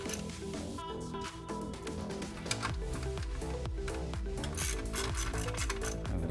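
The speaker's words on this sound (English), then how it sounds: "this is a 1/4-inch drive ratchet and a 7mm nut" A 1/4-inch drive ratchet backing off a 7mm nut on a computer case, a run of quick, close clicking pawl ticks with a steady rhythm over a faint mechanical rattle.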